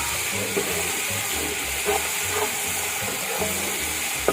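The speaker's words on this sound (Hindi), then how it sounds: "अब मैं अदरक लहसुन डाल रही हूँ। मैंने वहाँ पे बताना मैं भूल गई थी। और इसको हम थोड़ा सा भून लेंगे।" Onion, ginger and garlic fry in a pan for mater pulao with a steady close hiss and sizzle, broken by faint scraping and stirring sounds.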